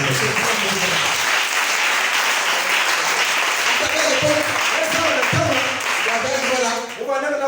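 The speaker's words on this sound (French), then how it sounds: "On acclame le" Applause from a church congregation, a sustained wash of many hands clapping that fills the whole stretch, with voices talking and calling out underneath.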